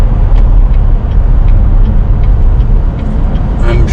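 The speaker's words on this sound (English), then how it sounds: "There is, I'm noticing, a pretty decent bit of road noise." Loud, steady low-frequency road roar and tire rumble fill the cabin of a C7 Corvette cruising on Michelin Pilot Sport Cup 2 tires, continuous throughout with faint higher rattles.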